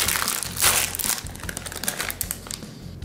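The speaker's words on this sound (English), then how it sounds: "Let's just crack a bag of Cracklins then." A bag of pork cracklins is torn open and handled, producing loud, close crinkling and crumpling of packaging in quick irregular bursts, with no speech.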